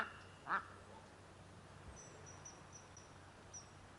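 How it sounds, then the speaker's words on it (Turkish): A duck quacks once, close and clear, beside the Olympos stream near the ancient city, followed by faint insect chirps and distant bird calls over a quiet outdoor background. "Ve ördekler."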